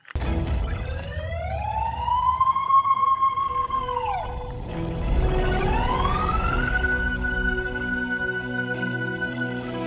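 Toy fire truck siren wailing loud and close, two rising-and-holding electronic sweeps with a brief dip between them, against faint low background rumble.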